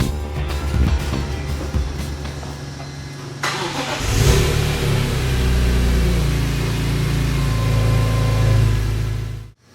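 A BMW E46 M3 convertible with its 3.2-liter inline-six fires up and revs, the engine note swelling loud and then holding a strong, steady roar until it cuts off abruptly at the end.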